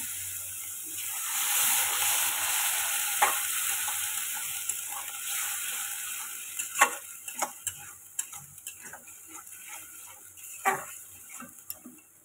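Potato and pointed gourd curry in a pan hissing and sizzling loudly right after a little water is added, the steamy roar fading over time while scattered ticks and spatula taps punctuate it.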